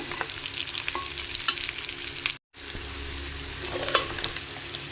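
Onions and country chicken (nattu kodi) fry in oil on a stove at medium heat, a steady close sizzle with stirring clatter and scrapes, briefly cut to silence midway before resuming, with no voices.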